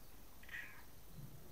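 A cat gives a single faint, brief meow partway through, heard distantly over a low background murmur.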